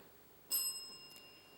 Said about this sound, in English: Bell came first.